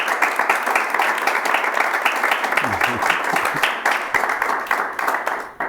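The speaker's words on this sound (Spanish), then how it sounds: "Creo que le podemos dar otro sonorísimo aplauso." A room full of people clapping steadily after a talk, dense and lively applause with a voice briefly audible underneath, fading slightly at the end.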